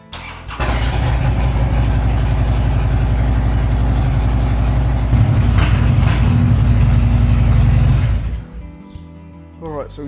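A Harley-Davidson motorcycle engine starts up in an open garage and idles loudly with a steady throbbing rhythm for several seconds, then shuts off, leaving quiet room noise and a brief voice.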